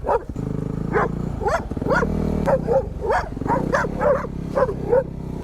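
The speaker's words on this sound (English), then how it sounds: "The doggies aren't happy with us" Dogs bark along a remote road in Baja California during a motorcycle enduro trip, a series of repeated barks and yips at close range over a low, steady engine idle.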